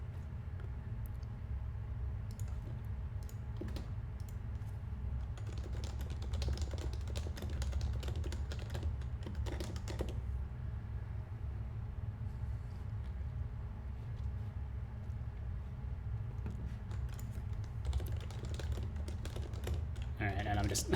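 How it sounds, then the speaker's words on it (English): Keystrokes clatter on a computer keyboard while messaging in Discord, in intermittent bursts over a low steady hum, quiet and close, with occasional talk. "just typing in a Discord."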